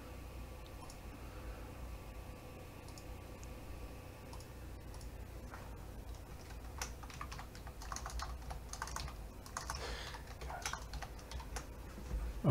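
Typing on a computer keyboard while loading samples into Signal, a steady run of soft, close key clicks that grows a little denser and louder near the end, with no talking.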